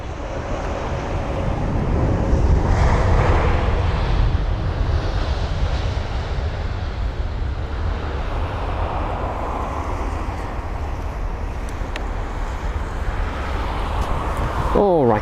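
A British Airways Boeing 787-8 Dreamliner landing at Heathrow, heard as a steady broad jet roar with wind buffeting the microphone, swelling slightly early on and holding at a continuous moderate level throughout.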